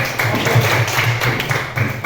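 A small classroom audience claps for a student presentation, with brisk, fairly loud hand claps in a quick, uneven rhythm for about two seconds.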